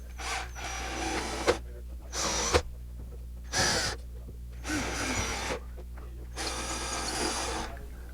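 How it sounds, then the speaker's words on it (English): An electric drill whirs in five separate bursts while drilling holes in a wall, each lasting under a second to over a second, with short pauses between them and a steady low hum underneath. "So first, drill our 4 holes."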